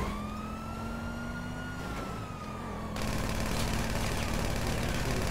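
Police car siren in GTA Online video game, a loud continuous wailing tone that shifts pattern partway through over engine and road noise, close and alone without speech.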